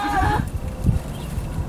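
A goat in labor lets out a harsh, strained bleat up close, with a brief second cry partway through.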